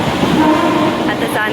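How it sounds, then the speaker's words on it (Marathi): A passenger train pulls into a station platform with a loud, steady rumble and a sustained tonal whine, plus a short higher note near the end, amid crowd noise. "फायनली 10 मिनिट वेट केल्याच्या नंतर ट्रेन आली."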